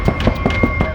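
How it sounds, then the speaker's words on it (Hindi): Repeated knocking, like something being hammered inside a water tank, with about five evenly spaced dull thuds in one second over a steady background hum and no talking. "किसी चीज के ठोकने की आवाज है सर।"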